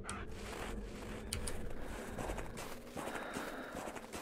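Running footsteps in the hunting game theHunter Classic, a quick run of steady thudding steps on rough ground, close and fairly loud with no voices.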